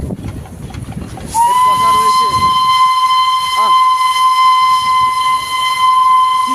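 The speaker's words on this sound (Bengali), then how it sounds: "দার্জিলিং রেলওয়ের হেরিটেজ ইউনেস্কো দ্বারা স্বীকৃত সেই আমাদের টয় ট্রেন" Darjeeling Himalayan Railway toy train, the UNESCO heritage narrow-gauge line near Lepchajagat, sounds a long, steady, loud whistle that holds for several seconds after earlier rumbling and voices, with a person speaking briefly.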